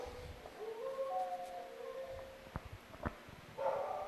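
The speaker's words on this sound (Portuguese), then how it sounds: "O cão está bravo aí na frente, até uivando." A dog howls in faint, drawn-out wavering tones from some distance, with a few sharp knocks and rustles in a quiet background.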